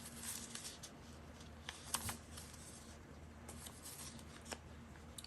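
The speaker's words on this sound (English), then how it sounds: "I'm going to cut just another little sliver off." Scissors cutting paper for a craft project, heard as faint, quiet snips and light papery rustles scattered irregularly across a soft background with no talking.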